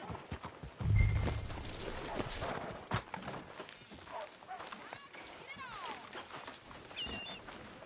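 Horse hooves clip-clop steadily in the Western video game Red Dead Redemption 2, close and rhythmic, with voices talking over them, a brief snort near the start and faint birdsong in the background.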